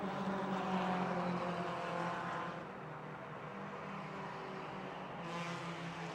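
Stock race cars, a Chevy Cavalier leading a Buick and a Dodge Shadow, drone steadily around the oval at Motordrome Speedway, a continuous engine roar heard from a distance that eases slightly midway.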